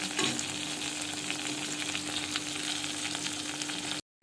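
Yogurt batter hits fried eggplant in a hot pan, setting off a loud, steady sizzle that holds evenly for about four seconds before cutting off abruptly.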